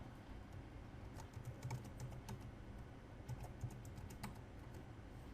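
Steady computer keyboard typing while renaming a folder on a PC, a continuous run of light, quick key clicks close by with no talking.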